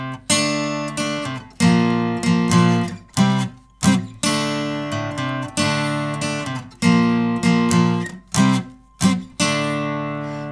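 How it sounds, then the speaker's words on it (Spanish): Acoustic guitar plays the main riff of a song alone, a loud, rhythmic run of strummed and picked phrases with short pauses between repeated figures. "Lo primero que vamos a aprender es el riff principal, que suena así."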